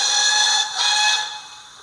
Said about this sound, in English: You can blow the whistles.